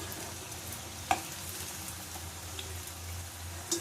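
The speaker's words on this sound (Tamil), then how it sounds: "இந்த மாதிரி நல்லா பொரிஞ்சு வரணும்" Momos fry in hot oil with a soft, steady bubbling sizzle, a few faint clinks of a utensil in the pan, and no talking.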